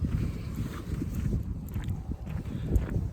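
Heavy wind buffets the microphone, producing a constant low rumble with gusty surges throughout and no voices.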